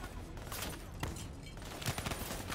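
Rapid gunfire in the video game Call of Duty: Black Ops 3 crackles in dense, overlapping bursts, with several sharper shots standing out over a busy battle background.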